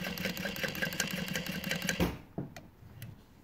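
A Juki DU-1181 walking foot sewing machine with a power saver motor stitches in a fast, even mechanical chatter, then stops abruptly partway, followed by a few faint clicks and knocks.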